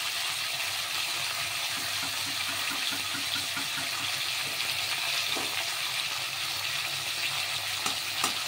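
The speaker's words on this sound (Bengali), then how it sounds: "হালকা করে ভাজা হবে," Pomfret fish frying in a pan after being coated in a masala of chilli powder, amchur and salt, a steady close hiss of sizzling oil running throughout with faint scraping and clinks and no talk.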